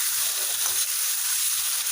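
Local chicken is stirred slowly in a kadai and gives off a steady, close hissing sizzle with faint scraping underneath.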